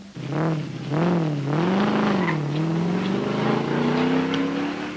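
A Ford Falcon GT race car engine revs and shifts up through the gears, a loud, rising whine close by as it accelerates away back onto the track.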